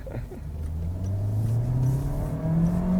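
A Volkswagen Santana sedan accelerates while driving, its engine note rising steadily in a smooth, sustained drone from inside the cabin.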